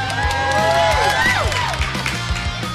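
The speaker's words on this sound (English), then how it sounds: "And the crowd goes wild." Crowd cheering and whooping from the video game Nickelodeon All-Star Brawl 2, a loud, dense roar of voices with rising whistles and yells sustained through a short burst over game music.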